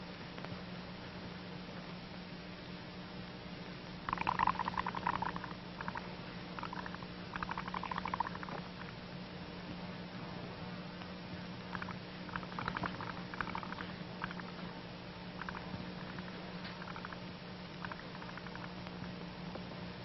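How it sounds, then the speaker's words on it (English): Someone blows through a pipe into water, making soft bursts of small bubbling patter in scattered clusters over a steady low hum, with no talking. "Oh, blowing lots of little bubbles."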